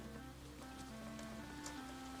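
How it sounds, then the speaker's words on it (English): Rain falls steadily in a children's television scene, a soft continuous hiss of drops under a sustained musical background, with no talking. "Here comes the rain."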